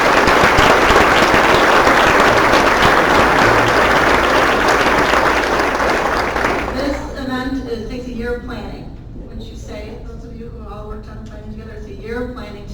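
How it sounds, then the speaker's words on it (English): Loud applause from a nonprofit fundraising workshop audience, dense and sustained for about seven seconds before fading into scattered claps and voices. "So we want to give a big round of applause to our donors."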